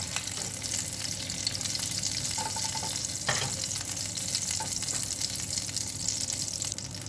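Shrimp sizzling in a pan while cooking for a sausage penne Alfredo, a steady close crackle of frying oil with a few clinks and scrapes of a utensil against the pan.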